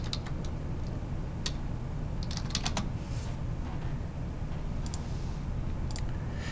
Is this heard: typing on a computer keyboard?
yes